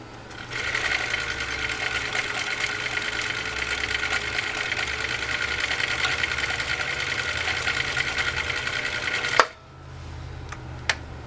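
A Husqvarna Viking CL21A sewing machine runs steadily, stitching through three layers of genuine cowhide leather with a continuous whirring motor hum, then stops abruptly with a clunk and a small click near the end.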